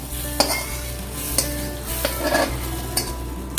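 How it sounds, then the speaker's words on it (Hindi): Hot oil tempering poured into dal sizzles and crackles steadily, with a few sharp clinks of a metal pan or spoon scattered through. "अब मैं ये दाल पे डाल दूंगा।"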